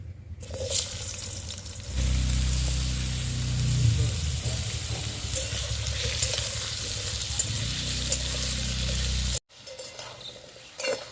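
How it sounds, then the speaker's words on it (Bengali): Potato and papaya pieces sizzle in hot white vegetable oil, a loud steady crackle that starts suddenly, carries on for several seconds, then cuts off. "তেলটা গরম হয়ে গেছে আমি পেঁপে আর আলুটা একটু ভেজে নেবো"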